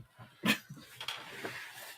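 Dogs shuffle about indoors, with a short high whimper and soft thumps and scrabbling close by, brief and fairly quiet.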